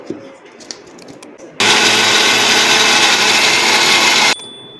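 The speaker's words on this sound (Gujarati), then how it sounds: "હવે આપણે આને પીસી લઈશું" A brief rustle, then a blender starts abruptly and grinds raw mango with cold water loudly and steadily for about three seconds before cutting off sharply.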